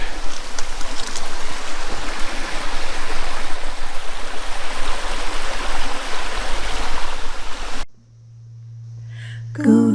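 Creek water flows steadily along a beautiful creek at a lunch stop, a loud continuous rushing babble that fills most of the clip, then cuts abruptly to near silence with a low hum and a faint sound near the end.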